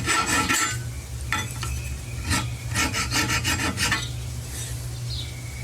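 A metal file rasps burrs off a part from a Briggs 5hp horizontal flat head engine in a rapid series of close, gritty strokes, with a few brief pauses between bursts.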